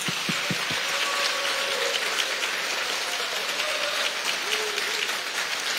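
Steady applause from party campaign staff at a Democratic Party election committee dissolution ceremony celebrating a presidential win, dense and even clapping throughout with a few louder claps at the start.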